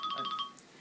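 A telephone rings close by with a brief electronic ringtone of about six quick, even beeping pulses that stop abruptly.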